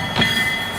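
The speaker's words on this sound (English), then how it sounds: "Now, there's your train. Now run for it." A stage sound effect of a train arriving during a school production of The Music Man, with a brief rumbling rush and a steady high whine over the rail noise.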